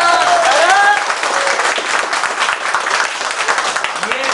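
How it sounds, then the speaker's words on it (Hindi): Loud applause fills a training class on the last day of a fault-finding course, steady dense clapping throughout, with a voice briefly calling out over it at the start. "एक बार अपने लिए जोरदार ताली बजाइए"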